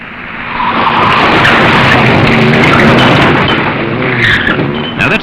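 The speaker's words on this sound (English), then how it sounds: "Now that's the sort of drift that could end up in a head-on smash" A car drifts hard through a corner at speed, tires squealing and skidding over a loud, sustained engine roar that builds quickly and holds for several seconds, close and continuous with no voices.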